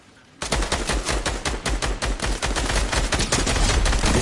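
Rapid automatic gunfire in a video game, a dense stream of loud close shots in quick succession that starts abruptly and keeps hammering without pause, with no voices.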